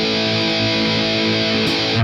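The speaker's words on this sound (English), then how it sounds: "And then with the Metal Zone in," Electric guitar through a Boss MT-2 Metal Zone distortion pedal with all knobs at noon, a dense, heavily saturated sustained chord, loud and continuous with no voice.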